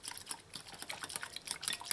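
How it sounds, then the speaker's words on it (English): A utensil stirs gelatin into water in a bowl, making soft, rapid, repeated scraping and sloshing sounds at close range with no voices. "now you just want to mix it in so that the water softens the gelatin."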